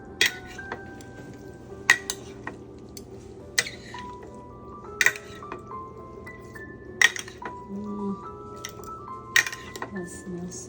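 Salmon ceviche being mixed in a bowl: spaced utensil clinks and taps against the dish with soft wet stirring between, close and clear, with a steady low background hum and no talking.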